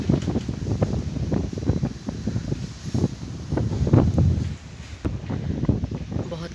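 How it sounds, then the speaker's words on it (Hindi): Strong, gusty stormy wind on a foggy morning in Shimla buffets the microphone in loud, uneven rumbling bursts, with rustling throughout. "बहुत तेज़ हवा चल रही है"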